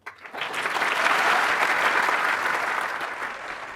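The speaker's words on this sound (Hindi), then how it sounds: "आपने तालियां बजाई" An audience at a business talk bursts into applause, a steady dense clapping that swells quickly and holds loud and close for several seconds before easing slightly.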